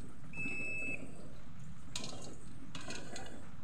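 A multimeter's continuity buzzer sounds while the power cord of a faulty rice cooker is tested, one short steady beep of about half a second, followed by scraping and handling noises.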